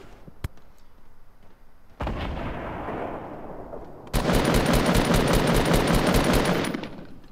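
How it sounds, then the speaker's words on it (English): Gunfire in the Fortnite battle royale video game: a single sharp shot, then a rough burst, then a loud sustained stretch of rapid automatic fire lasting a few seconds before cutting off, with no talking. "there's someone else shooting at him"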